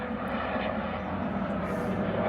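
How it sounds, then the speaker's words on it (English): A helicopter passes overhead near the I-40 interstate beside a garden, a steady broad engine drone holding level throughout with no talk. "That's one of those choppers."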